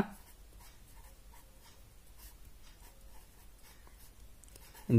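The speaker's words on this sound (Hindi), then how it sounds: "मैं यहां पे लिख देता हूं बेलन का" Pen writing out a math question on cylinders in a lesson, quiet rapid scratchy strokes up close, ending with a brief louder bump.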